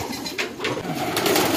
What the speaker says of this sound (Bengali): এটা হচ্ছে জ্যাকোবিন, এটা বন্ধু মেহেদির মানে সর্বপ্রথম কবুতর